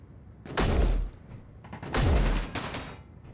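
Two heavy booming shots from an interior turret in Space Engineers, each a loud thump with a short rumbling tail, about a second and a half apart, with faint mechanical clatter between.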